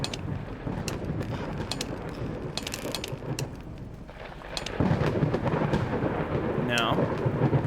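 A lightning storm in the puzzle game Bad Dream: Coma gives a loud steady rumble of thunder and rain, with crackling bursts throughout and a heavier surge partway through.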